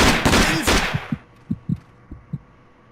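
In the Alekhine's Gun video game, a firefight opens with a burst of loud, close gunshots, then several single heavy thuds of fire come spaced apart, fading into a quiet hum.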